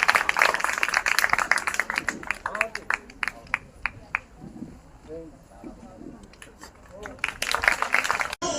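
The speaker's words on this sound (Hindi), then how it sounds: "उनके लिए तालियां बजाइए" Audience at a school annual function in Mathura claps in scattered sharp bursts that thin out midway, then swell into fuller applause near the end, mixed with background voices.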